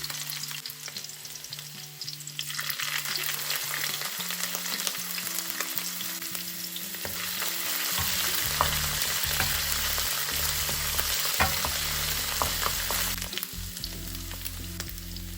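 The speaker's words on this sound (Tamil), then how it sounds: "வெட்டி வச்ச உள்ளியை இஞ்சியும் சேர்த்து பொரிய விட போகிறேன்" Chopped garlic and ginger sizzle steadily in hot oil, a continuous close crackle that grows louder and denser partway through as the pieces hit the pan, with no voices over it.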